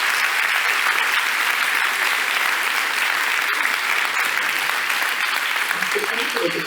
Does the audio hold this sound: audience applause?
yes